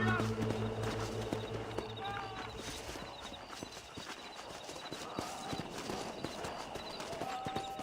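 Horse hooves clip-clop at a steady running pace in the Western video game Red Dead Redemption, fairly close, over continuous game ambience with faint musical tones.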